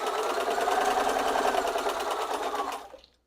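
A sewing machine runs a pop-up stitch in one steady, rapid whirring burst with fast rhythmic needle beats, loud and close, that stops abruptly near the end, with no talk.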